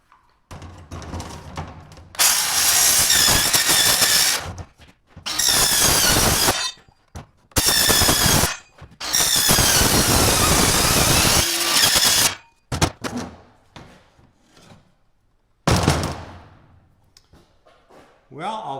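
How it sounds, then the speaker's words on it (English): Milwaukee metal cutting saw slicing through aluminum sheet: loud, harsh screaming cuts in several long bursts separated by short pauses, with quieter clanks and handling noise between runs and a final shorter cut. "it is time to make some noise here cutting this aluminum out. I have it all drawn out and got a Milwaukee metal cutting saw"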